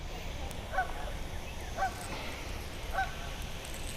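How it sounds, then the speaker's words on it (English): Geese honking at a pond during a morning of bass fishing, three separate calls spaced about a second apart over steady outdoor background noise, moderately distant. "These geese won't shut up"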